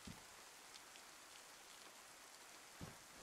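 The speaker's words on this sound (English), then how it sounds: "Waiting for the rain to stop." Rain falls steadily in the game DayZ, a constant soft hiss of drops with a couple of brief dull thuds, heard alone without voices.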